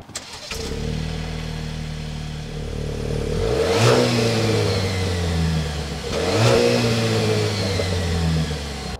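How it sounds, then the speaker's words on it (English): A 2023 Dodge Hornet GT turbocharged four-cylinder engine idles and then revs hard twice, each rev climbing and falling back, with a throaty growl throughout. "the engine sounds unlike any Turbo 4 that we've sampled here lately"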